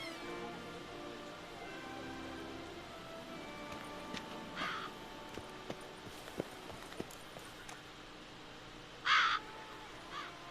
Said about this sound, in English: These are ravens and not crows.